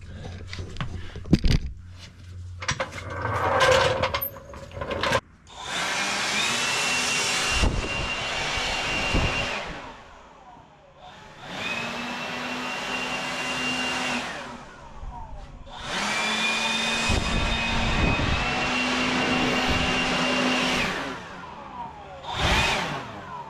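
A loud air blower roars in long sustained blasts across a garage floor, cutting off and restarting a few times, with a steady whining tone through each burst and no talk.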